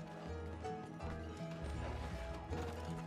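Horse hooves clip-clopping in Red Dead Redemption 2, a steady rhythmic run of hoof beats with clattering game sounds layered over it, moderately loud and without clear speech.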